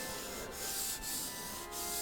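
Pastel on paper is rubbed and smoothed to blend it, a soft, continuous scratchy friction close by. Strokes change direction in three brief pauses, with no voices.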